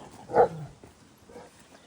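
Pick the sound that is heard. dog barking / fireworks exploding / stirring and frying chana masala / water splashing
dog barking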